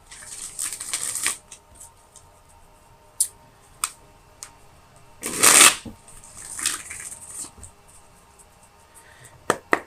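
Tarot cards shuffled and drawn by hand: soft riffles and flicks close up, one louder burst of shuffling in the middle, and scattered single card snaps, with no speech.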